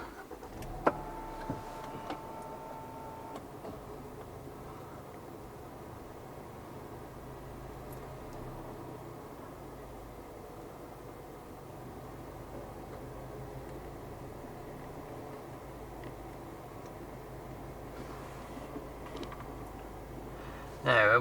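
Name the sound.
Range Rover Evoque engine starting and running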